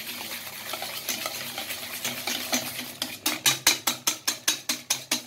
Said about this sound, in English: Mix the sugar nicely.